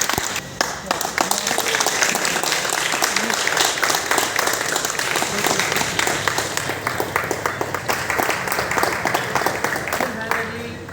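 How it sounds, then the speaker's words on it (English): Sustained applause from a large crowd at a dog sterilisation camp, dense steady clapping that fills the whole stretch without letting up, with no talking over it. "So please round of applause."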